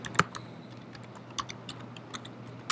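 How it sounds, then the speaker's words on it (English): A password is typed on a computer keyboard during a Mac OS X El Capitan installation: scattered close keystrokes at an uneven pace, several sharper clicks standing out over a quiet room hum. "You have to type in your password"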